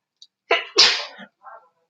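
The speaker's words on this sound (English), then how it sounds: "I think I'm gonna sneeze again" A single sharp sneeze, close and loud, with a short intake before it and a soft trailing sound after.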